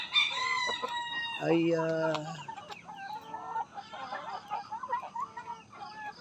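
Chickens on a farm are heard up close. A rooster crows once, clear and near, then hens cluck and chatter in short irregular bursts, with a brief voice.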